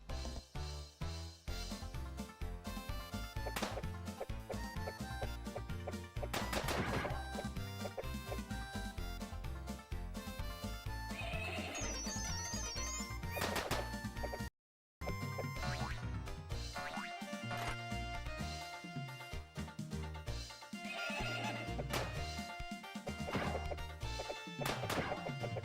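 Video game music track from Clockwork Knight 2: a dense, steady, bouncy tune with a thumping beat and playful tonal accents, loud throughout with one brief dropout midway.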